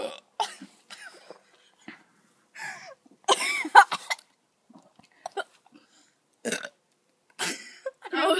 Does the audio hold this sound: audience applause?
no